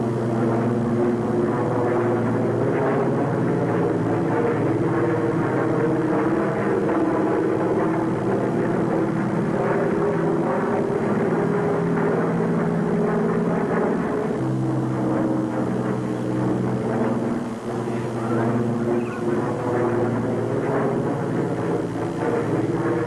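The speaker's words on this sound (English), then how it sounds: "That plane is flying in the wrong direction." A propeller plane drones overhead in a 1952 jungle adventure film, a loud, sustained engine hum with a steady throb that holds throughout with no voices.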